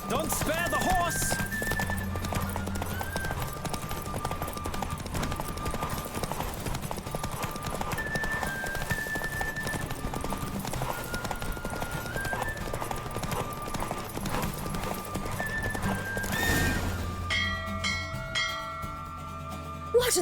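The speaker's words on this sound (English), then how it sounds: "Don't spare the horse!" Horse hooves clip-clop steadily through a galloping race in the Witcher 3 video game, running nearly continuous over game music with melodic tones, and a few whinnies and bell-like notes are heard toward the end.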